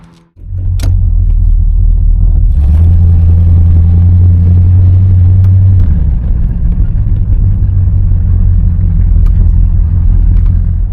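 A 1968 Plymouth GTX with its 440 Super Commando V8 rumbles steadily from inside while driving, a deep loud low-end drone that swells under acceleration, then settles into a steady cruising growl.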